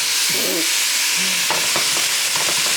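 Chicken cooks in a frying pan, a loud continuous sizzle and hiss filling the clip, with a few short scraping knocks near the end and no talk.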